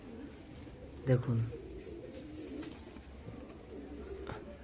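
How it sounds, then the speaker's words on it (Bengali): Domestic pigeons in a feather-footed ready breeding pair coo in a short burst near the start, then fade to a low murmur, while someone speaks briefly over them. "আমার পুরনো বাড়ির জেনারেশন কবুতর এসব"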